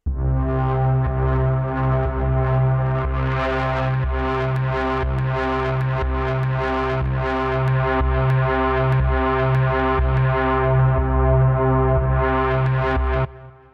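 A sustained synth tone from the Artistry Audio Scorpio plugin, layered and harmonically rich, shimmering and shifting in texture as effects are swept across an XY pad, playing alone for about thirteen seconds before cutting off.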